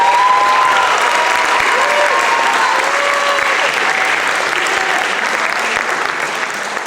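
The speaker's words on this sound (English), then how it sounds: "let's clap it up for them one more time" A high school graduation crowd gives the graduating students a loud, sustained round of applause, dense clapping from many hands that stays full and slowly tapers, with a few faint voices mixed in.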